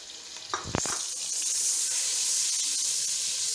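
Butter and oil fry together in a cooking pot, a brief clatter and a few sharp pops early on giving way to a steady, close sizzling hiss.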